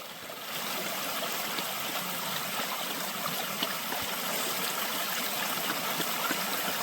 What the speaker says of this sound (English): then you can hear the babbling better